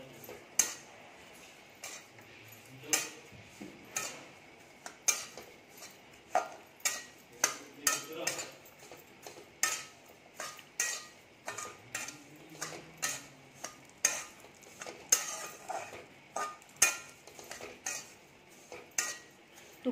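A spoon stirs and scrapes semolina roasting in ghee in a metal pan for sweet shira, giving sharp, irregular clinks and scrapes that repeat close by over a quiet background, with no talking.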